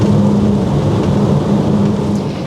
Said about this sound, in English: it starts to rain again.